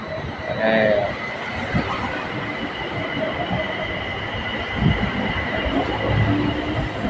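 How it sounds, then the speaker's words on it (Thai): BTS Skytrain Silom Line train at Saphan Taksin station in Bangkok, wheels and motors rumbling with faint squealing and clacking along the platform, while people talk under the train noise. "Attention please This train is for National Stadium"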